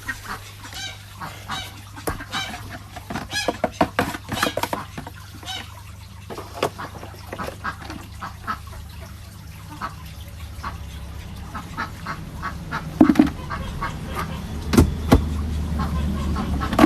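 A crowd of geese honk and cackle continuously nearby, with overlapping calls and some rustling throughout.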